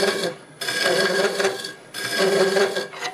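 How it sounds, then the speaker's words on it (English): A homemade negative-rake bowl scraper blends the inside of a segmented wood bowl spinning on a lathe, giving a loud continuous scraping rasp in two long passes broken by short pauses. "I'll use my homemade naked rake scraper, kind of ground for a bowl scraper"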